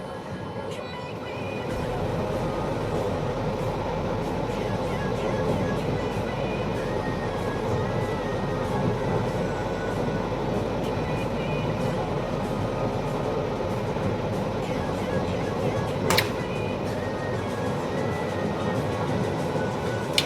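A train rumbles steadily as it arrives at a station, a continuous low roar with faint rail clatter and one sharp squeal near the end, with voices murmuring at a distance.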